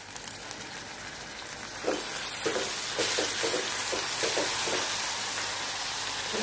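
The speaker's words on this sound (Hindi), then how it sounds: "लहसुन का पेस्ट अच्छे से हमने भून लिया" Ginger-garlic paste with onions and salt sizzles steadily in a pan for a kaleji masala, with a continuous frying hiss and a few soft stirring scrapes.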